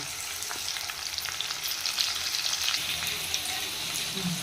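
Food sizzles steadily in half-heated oil in a home kitchen, a dense continuous crackle that stays close and even throughout with faint scattered pops.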